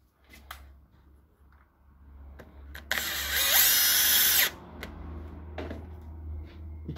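A power drill drives a screw into the inner side of a window sash, whirring loudly for about a second and a half after a few light clicks and taps of handling.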